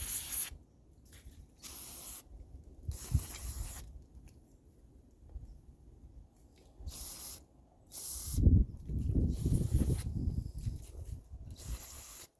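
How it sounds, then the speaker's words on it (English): Carb cleaner sprayed into the small holes of a Kawasaki KX85 dirt bike carburetor, a series of sharp hissing bursts of varying length separated by short pauses, close and loud, with handling noise in the gaps. "make sure that we spray carb cleaner in all these little holes and stuff"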